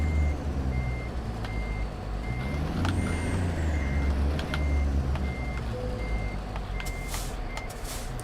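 Truck maneuvering at a cattle farm with a loud, evenly spaced reversing beep over a deep, rumbling idling engine, with a short air-brake hiss near the end.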